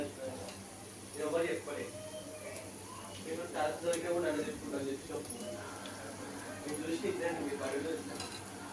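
Boiled eggs are dropped into a pot of pudina gongura egg biryani and stirred in, giving soft scraping and clinking over a steady background hum, with faint bird calls and a voice talking.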